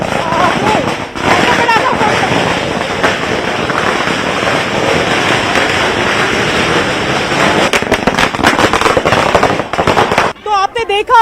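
Firecrackers burst alongside dhol drums at a Congress party celebration in Bastar, Chhattisgarh. The crackling volleys come loud, dense and rapid, with crowd voices mixed in, and drop off briefly near the end.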